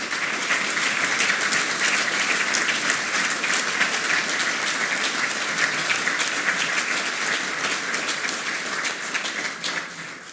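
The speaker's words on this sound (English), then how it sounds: "give it a round of applause" Sustained applause from a large crowd at a bravery awards ceremony, dense steady clapping that holds for about ten seconds before easing slightly at the end.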